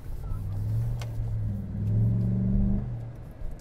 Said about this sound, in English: You actually can hear some induction noise, intake noise up front.